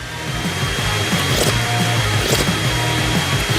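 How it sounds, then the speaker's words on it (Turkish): A steady motorized whine with a low mechanical hum runs continuously, like a vacuum cleaner or similar appliance running close by. "Elektrikli süpürge."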